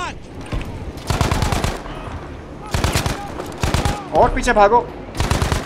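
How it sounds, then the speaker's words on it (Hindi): Bursts of automatic gunfire in Battlefield 5, a WWII shooter, come in loud, repeated volleys separated by brief pauses, while someone talks excitedly over the shooting. "साले स्टिल फायर कर रहे मेरे पे।"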